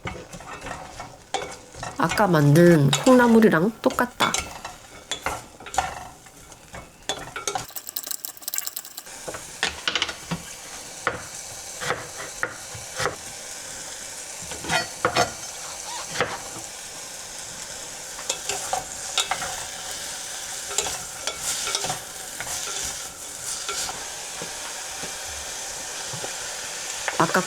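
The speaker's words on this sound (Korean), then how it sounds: "물을 넣고 볶는다" Julienned radish stir-fried with a splash of water in a pan, giving a steady run of scraping and stirring clatter with soft sizzling throughout, loud and close, with a brief spoken remark over it.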